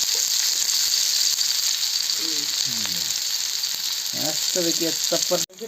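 Oil goes over onions already reddened in a pan, and a loud, constant close hiss fills the whole stretch while voices speak intermittently beneath it before it cuts off at the end.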